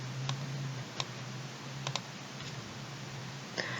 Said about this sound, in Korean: 버튼을 눌러줍니다